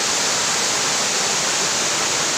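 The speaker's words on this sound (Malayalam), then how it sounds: "ഇതിപ്പോൾ 2-ാമത്തെ വെള്ളച്ചാട്ടമാണ്." Pambanal waterfall near Manathoor on the Pala–Thodupuzha road, heard up close as a loud, steady, broadband rush of falling water filling the whole clip.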